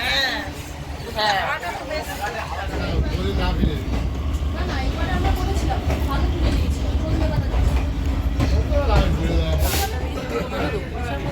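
Continuous rumble and rattle from inside a moving train carriage, with people chatting nearby throughout.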